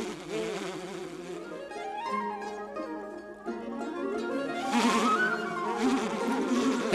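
Bees buzzing in a Winnie-the-Pooh cartoon, a swarm of wavering, swooping hums that rise and fall in pitch, steady and fairly loud with no speech.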